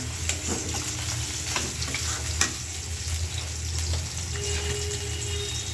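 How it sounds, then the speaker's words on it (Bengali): Fish fry in a pan of oil in a home kitchen, a continuous, moderately loud sizzle with occasional pops and clinks, no voices. "মাছগুলো ভাজিয়ে নিতেছি, মাছগুলো প্রায় ভাজা শেষ"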